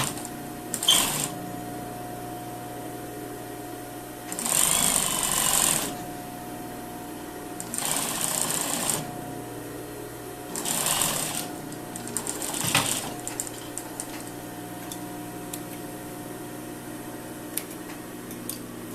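Sewing machine stitching the corner of a lined jacket, joining bodice and facing from notch to fold line, in several short bursts separated by quiet pauses.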